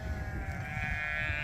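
Hair sheep give a short, steady bleat at moderate volume, with no voices over it.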